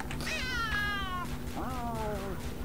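A cat meows twice in the S.T.A.L.K.E.R. New Arsenal mod, near and clear, with a long falling meow followed by a shorter one over a low steady background hum.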